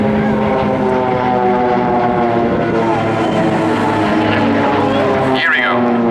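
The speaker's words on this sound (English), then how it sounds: "let's come back now to the spectacular crossing of 4 aircraft" Four Swiss Air Force Pilatus PC-7 propeller aircraft cross overhead at an airshow, a loud, steady droning roar with a shifting whine near the end as they pass, while an announcer talks over it.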